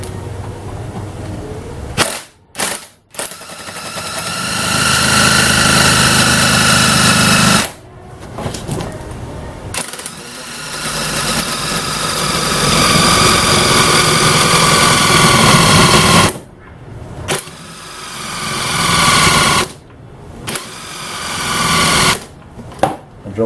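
A cordless battery drill runs in long bursts while working on a 1935 Austin 7 engine, whirring loudly with short stops between runs and occasional sharp clicks, its pitch straining and wavering as the battery weakens.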